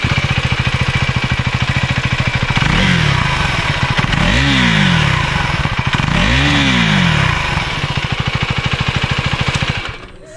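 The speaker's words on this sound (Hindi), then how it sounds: "इसका भी एग्जॉस्ट साउंड सुनते हैं" Exhaust note of a KTM motorcycle with a 46-power engine and 15-litre tank, idling with a steady thrum, then blipped up in two strong revs that rise and fall, close and loud, before settling back and cutting off.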